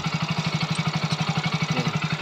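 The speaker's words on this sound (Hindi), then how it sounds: "इंजन की जो साउंड है काफ़ी बेहतरीन साउंड है" A Hero Splendor Plus BS6 motorcycle engine runs steadily close up, with a rapid even thumping pulse and a mechanical whir throughout, and no talking.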